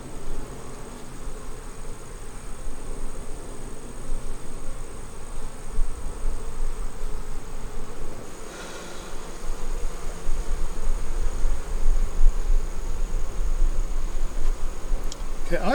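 Honey bees buzz densely around a queen during a hive installation, a continuous close swarm drone that swells slightly partway through, with a person's voice faintly underneath.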